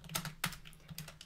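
A few quick keystrokes on a computer keyboard, close and fairly soft, tapping in an uneven rhythm with short gaps between presses.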